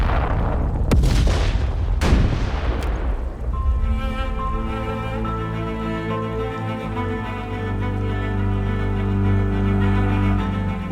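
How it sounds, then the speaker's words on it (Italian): Artillery cannon fire from the 1917 Caporetto front: a few heavy booms in quick succession early on, then a long ringing, droning tail of tones lingering after the blasts. "vi scrivo mentre il cannone tuona incessantemente"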